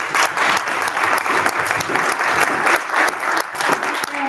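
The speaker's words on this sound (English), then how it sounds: "Let's give them one more round of applause." Sustained applause from a luncheon audience, steady and fairly loud throughout, with dense overlapping claps and no talk over it.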